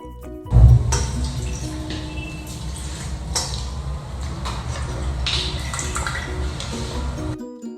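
Cooking water from boiled horse gram is poured into a vessel, a steady trickling stream for several seconds that opens with a brief clatter of the pot.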